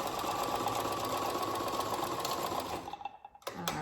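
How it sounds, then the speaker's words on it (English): A sewing machine runs steadily while stitching a quarter-inch seam in fabric, a loud continuous whir that stops near the end before a brief restart. "we're just gonna do a 1/4 inch seam here real quick."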